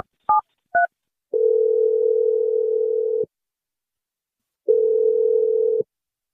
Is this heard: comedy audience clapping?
no